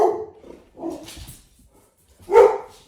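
A dog barks indoors in a few loud, close bursts, two quick barks at the start and another strong one after a short gap, with softer whimpering in between.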